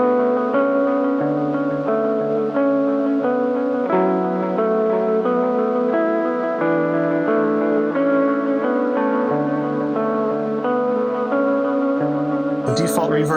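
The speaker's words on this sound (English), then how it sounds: "And then let's hear our reverb." Guitar notes ring out through a ZOIA pedal's reverb set around 4.8 seconds, each chord blurring into a long, washy tail, fairly loud and close.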